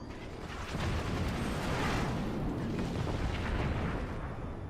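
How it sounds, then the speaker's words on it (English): Heavy mortar barrages pound steadily and without pause in a strategy game match, a dense, rumbling roar of overlapping blasts holding at a constant loud level. "Those mortars for Team Cactus Krieger have been harrowing."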